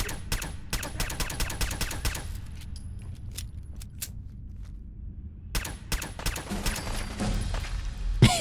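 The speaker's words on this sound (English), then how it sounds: "I love that this pistol is both silent and explosive." Rapid clusters of muffled, snappy shots from a silenced explosive pistol in Fallout 4 come in two bursts with a quiet gap between them, set over low rumbling background noise.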